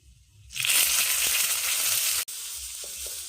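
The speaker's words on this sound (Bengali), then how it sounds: "আমরা এখন রসুন দিয়ে দিচ্ছি, লঙ্কা দিয়ে দিচ্ছি, কালো জিরা দিয়ে দিচ্ছি, দিয়ে একটু নাড়াচাড়া করে নেব" Garlic, chilli and nigella seeds drop into hot oil in a pan for a cauliflower-leaf mash and burst into a loud, close, continuous sizzle that keeps going as they are stirred, with a brief break partway through.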